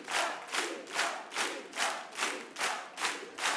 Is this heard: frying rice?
no